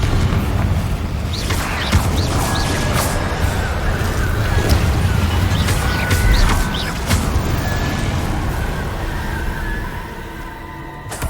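Confringo spell blasts in Hogwarts Legacy, a run of booming magical explosions and crackling impacts over steady game background noise.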